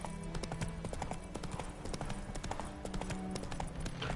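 Roach, the horse in The Witcher 3, gallops in a steady, quick clip-clop of hooves that runs the whole time, loud and close, with game ambience underneath.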